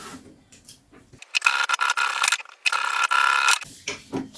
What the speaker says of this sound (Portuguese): Então, eu vou passar essa costura aqui, desses dois lados